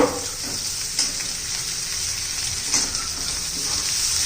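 Tomato and potato pieces frying in hot oil in a pan, a steady close sizzle with a few soft stirring scrapes and no voices.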